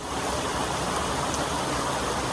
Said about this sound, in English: Nice little brook flowing here